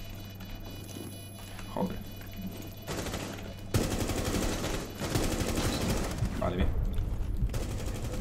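Rapid automatic gunfire in Rainbow Six Siege bursts out in dense, loud volleys over steady game background noise, with a short pause before a second, heavier stretch of sustained shooting.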